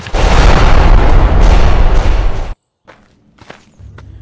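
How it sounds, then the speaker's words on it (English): Loud, sustained rumble of artillery shells bursting for about two and a half seconds, hitting toy army men defenses in a stop-motion battle, then cutting off to near silence broken by a few faint thuds. "Soldier, get an artillery strike on them defenses."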